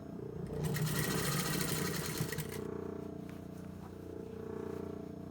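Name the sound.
sewing machine stitching shirt cuff to sleeve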